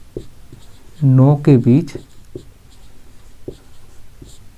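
Pen strokes writing numbers by hand during a Hindi statistics lesson make faint, scattered scratches and taps, with a short burst of speech partway through.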